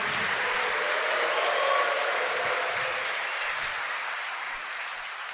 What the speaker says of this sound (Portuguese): Dê uma salva de palmas para a mãe também.